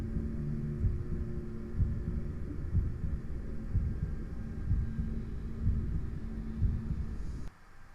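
Heartbeat from the video game Bendy chapter 3: a steady, deep, muffled thumping pulse of about one beat per second over a low hum. It goes on for about seven seconds, then cuts off abruptly.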